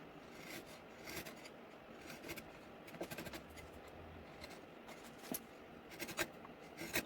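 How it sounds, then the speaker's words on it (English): A 7/16 chisel cuts into a piece of pine, producing soft, close scraping and shaving sounds with irregular little clicks and scratchy strokes, fairly quiet and heard alone. "Use the 7/16 chisel on this here piece of"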